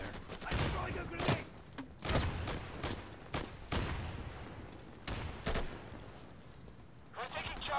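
Gunfire and a thrown grenade in the video game Insurgency ring out as a series of sharp, loud shots spaced irregularly through the moment, close by, with a player talking in between.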